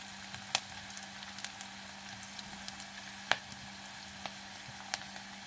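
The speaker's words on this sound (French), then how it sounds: "On attend 2 minutes pour les oignons qui cuisent un peu" Chopped onions sizzling steadily in a pan, with a constant hiss and a few sharp pops and crackles over about five seconds, no voices.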